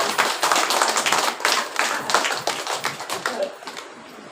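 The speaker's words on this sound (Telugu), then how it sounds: "నాకు ఒకసారి చప్పట్లు కొట్టండి" A small crowd in the village of Kornapadu claps in a quick, uneven burst close by, the applause fading out over the last second.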